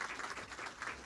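Audience applause at a film Q&A session for ocean-themed film directors, a steady wash of clapping from a crowd filling the short moment without pause.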